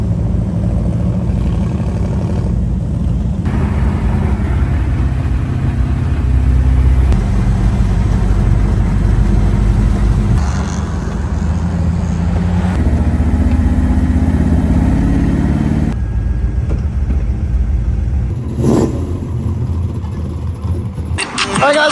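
Front-wheel-drive drag cars rolling out at Drag Week 2025, a loud, steady engine drone with idling and revving rumble that rises and falls for about twenty seconds, with voices talking over it.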